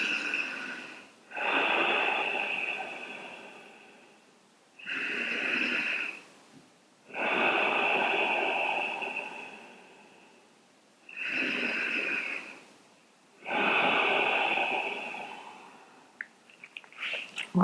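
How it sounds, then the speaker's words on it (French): Slow, deep breaths during a hatha yoga forward-fold pose, about five long airy exhalations with quiet pauses between them, close and fairly soft, with no talking. "Encore 5 respirations ici."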